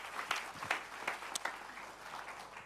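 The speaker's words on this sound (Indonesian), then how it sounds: "Kita beri tepuk tangan buat Tuhan." A church congregation gives a round of applause, a faint, somewhat distant patter of clapping with a few sharper claps standing out, lasting only a few seconds.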